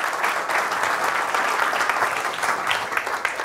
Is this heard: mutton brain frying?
no